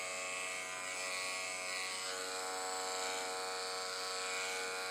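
An electric razor shaves someone's head, buzzing steadily and continuously at close range throughout, a faint but unbroken hum with no talking.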